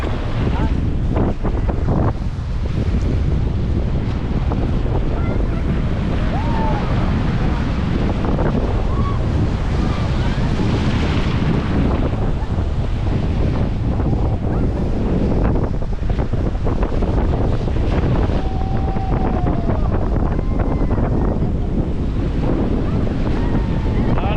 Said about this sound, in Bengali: দারুণ ঢেউ কিন্তু